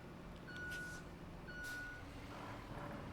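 Truck reversing beeps in the RoadCraft video game, two long, steady electronic tones spaced about a second apart over a low engine rumble, moderately loud, with a faint hiss of air brakes.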